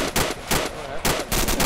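Rapid bursts of automatic gunfire in the military shooter ArmA II, several loud close volleys separated by brief gaps, with no talking.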